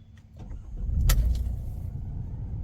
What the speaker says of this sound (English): I am now cranking on the engine